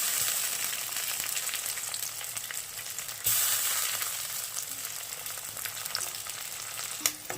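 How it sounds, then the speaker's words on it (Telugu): Onions and curry leaves fry in a pan of hot oil for a masala stuffed brinjal curry, a loud continuous sizzle with a few stirring scrapes and no talk. "ఉల్లిగడ్డ లైట్ బ్రౌన్ కలర్ వచ్చేంత వరకు వేగనివ్వాలి ఇందులోకి కరివేపాకును యాడ్ చేసుకోవాలి"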